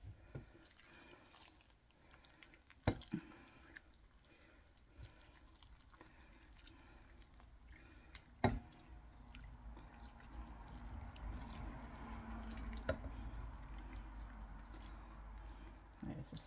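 Pink jelly mixture for a Christmas dessert is poured from a pan, making a steady close trickle that grows fuller toward the end, with a couple of sharp knocks along the way.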